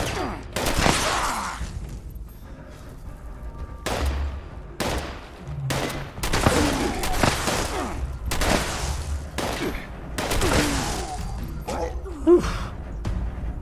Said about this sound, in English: I shot you in the face with an explosive shotgun